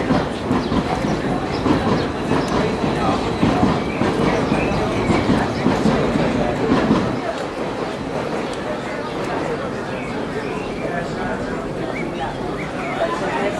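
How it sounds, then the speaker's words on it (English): A train passes near a port town close to Athens, a loud rumbling clatter of wheels on rails that fades after about seven seconds into a quieter, lingering rumble. Voices can be heard faintly in the background. "There goes a train."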